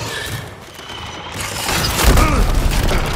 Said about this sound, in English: I shot my bomb lance at her and she blew it up